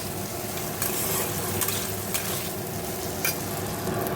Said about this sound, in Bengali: হালকা একটু নেড়ে চেড়ে আমি ডালিয়া আর মুগ ডালটা দিয়ে দেবো।